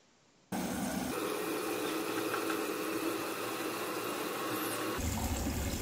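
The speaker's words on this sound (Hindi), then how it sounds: "और देखिए मोटर चालू हो गई" Small electric water pump motor for an automatic plant-watering setup switches on and runs with a steady, loud mechanical hum and vibration, continuous for several seconds with no talk.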